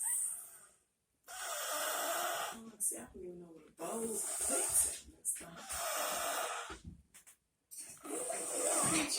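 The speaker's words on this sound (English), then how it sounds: "This is the loudest snoring child you will ever meet in your life." A child snoring loudly, with rhythmic rasping inhalations and snorting breaths broken by brief pauses, heard up close indoors.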